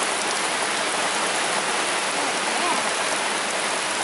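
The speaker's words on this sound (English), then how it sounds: "it's pouring out here now" Heavy rain pours steadily outdoors, a dense, loud, unbroken hiss with no pauses or distinct drops.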